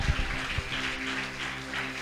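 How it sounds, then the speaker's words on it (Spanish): A church congregation gives a short round of applause during a Sunday service, a steady patter of many hands clapping at moderate loudness over a low hum. "¿Le puedes dar un aplauso a la palabra que da vida?"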